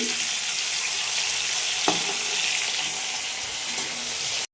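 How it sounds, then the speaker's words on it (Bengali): Giant freshwater prawns sizzle and fry in a pan, a steady broadband crackle throughout with a brief clink near the middle, close and fairly loud, no talking. "এটা আমি আগে একটু মাছগুলোকে ভেজে নিচ্ছি।"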